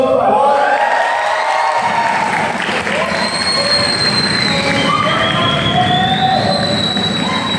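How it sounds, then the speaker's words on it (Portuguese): A church youth-service audience applauding and cheering loudly, dense continuous clapping with shouts and whoops, while music and a voice ring through over it. "aplauda o Senhor, por favor"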